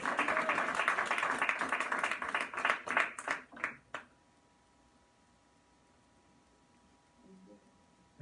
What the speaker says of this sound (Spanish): Denle un aplauso, iglesia